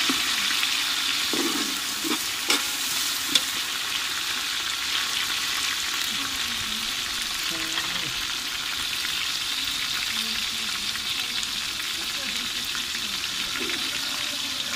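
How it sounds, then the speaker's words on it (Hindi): Tomatoes and long-cut green chilies drop into browned onions frying in a pan for village-style Pakistani chicken biryani, raising a steady, close sizzle with a few soft knocks and stirring scrapes. "अभी इसमें ये टमाटर डालेंगे और ये हरी मिर्च लंबी कटी हुई"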